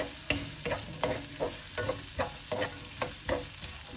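Onions sautéing with plenty of garlic in a pan for chicken adobo, with a steady sizzle under regular scraping stir strokes roughly every half second, close and moderately loud.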